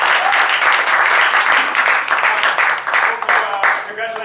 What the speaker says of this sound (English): Please a round of applause for the actors who are here.